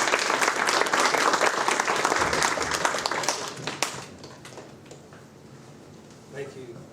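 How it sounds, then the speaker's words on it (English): An audience at a Knights of the Southern Cross gathering claps warmly for the Knights. The dense applause fades over about four seconds into scattered claps and room noise. "If we could give a round of applause to our Knights."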